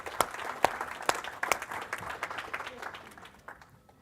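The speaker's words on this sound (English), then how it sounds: "Let's give him a round of applause, please." An audience applauds at a First Nations carbon summit panel. A few sharp, distinct claps give way to dense clapping from a crowd, which gradually fades out.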